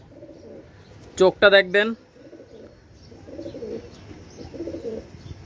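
A pair of Pakistani teddy pigeons coo in soft, low, rolling phrases at intervals, close by, while someone speaks briefly and loudly over them.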